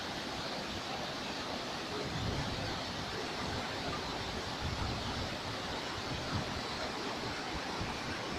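A waterfall and flowing stream in Dang, Gujarat roar in a steady, dense wash of broadband water noise that stays even and unbroken throughout, with no voices.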